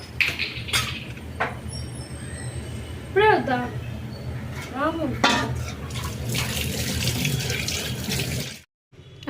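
A tap runs steadily into a sink while hands are washed. The water flows continuously at close range with a few brief clinks, a voice talks over it at times, and it ends in a sudden cut to silence.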